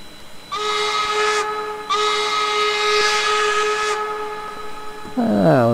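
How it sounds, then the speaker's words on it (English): A steam whistle on an N&W 4-8-0 locomotive in the Trainz 2019 simulator sounds two long, loud, steady blasts separated by a short gap, then a rising chiming tone begins at the end. "That's a really good sounding whistle"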